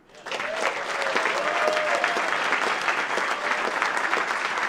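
A large crowd applauds award winners at a barbershop harmony district gathering, the clapping swelling up quickly and holding steady and full, with a faint sustained tone in the background early on.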